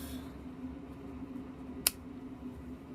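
Scissors give one brief, crisp snip through a crochet yarn tail, isolated against a quiet room hum with no talking.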